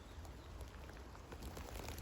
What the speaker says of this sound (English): Rain started to come on.